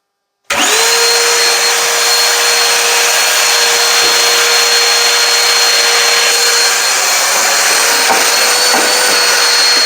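A Ryobi 18V PCL705 cordless hand vacuum, fitted with a crevice tool, is cleaning out a dryer vent. It starts abruptly with a sharp click, then gives a loud, steady, high-pitched whine and airy roar that runs unbroken and close.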